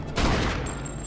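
A burst of rapid gunfire in the video game Mafia II, loud and dense, ringing out for about a second.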